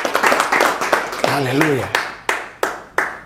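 A church congregation claps in rhythm, sharp steady hand claps following a preacher's exclamation, with voices over the start.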